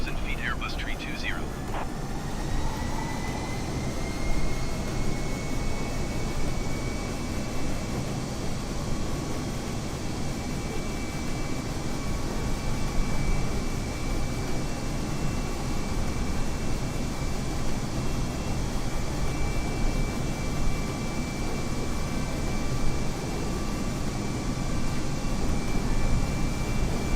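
Airbus A320 jet engines droning in a flight simulator game, a steady, broad roar with a thin high whine that holds unchanged throughout, while a voice talks over it at the start.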